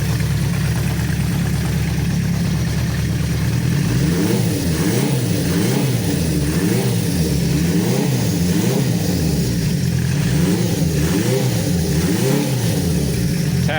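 A 1973 Honda CB500 motorcycle engine running after a carburetor rebuild, idling steadily with a rhythmic burble and rising and falling in repeated throttle blips, close and loud with no talking.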